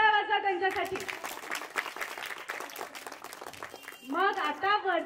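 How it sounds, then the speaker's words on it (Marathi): Loud applause from a crowd of children at a Ganesh mandal event, a dense burst of clapping that fills the middle of the clip. It sits between stretches of an adult voice speaking over a loudspeaker at the start and at the end. "पुन्हा जोरदार टाळ्या वाजवा त्यांच्यासाठी।"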